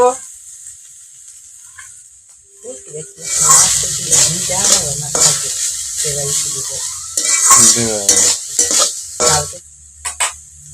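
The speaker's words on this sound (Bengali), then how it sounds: "আর এটা খুলে দেখব একটুখানি নেড়ে চেড়ে দেব" Banana stem curry (thor ghonto) being stirred in a pot, scraping and sizzling strokes in bursts after a quiet start, with someone speaking over parts of it.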